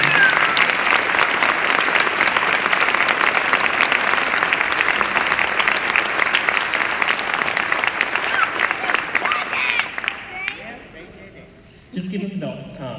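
Concert audience at a high school performance gives a sustained round of applause, dense and loud for about ten seconds before fading out, followed by brief quieter sounds.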